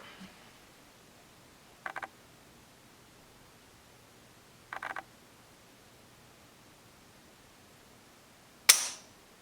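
An AR-15 trigger on a Wheeler Engineering trigger pull scale gives two pairs of quiet metallic clicks as the trigger breaks, then a louder sharp snap near the end, close by in a quiet room.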